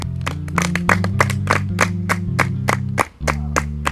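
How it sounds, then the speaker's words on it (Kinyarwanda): Sharp, evenly spaced hand claps ring out from people at a village meeting, a brisk rhythmic series lasting about three seconds over a steady tonal hum, then a brief pause before another clap. "Mbere yo kaguruka ariko mwamuha amashyi"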